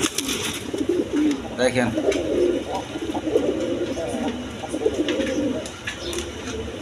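A pair of Black Bombay pigeons coo in soft repeated rolls close by, while someone talks over them throughout.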